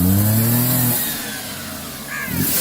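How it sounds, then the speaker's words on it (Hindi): A car engine is revved as the accelerator is pressed, a loud mid-pitched roar that climbs and then drops back toward a steady hum before surging again near the end. "अरे एक्सीलेटर दीजिए ना।"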